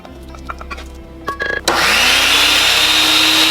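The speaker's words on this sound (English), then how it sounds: "so we'll have to use the blender" A countertop blender starts up and runs steadily on a mixture of banana peel and rice, its loud whirring roar holding constant after a few preceding knocks and clatters, close by with no voices.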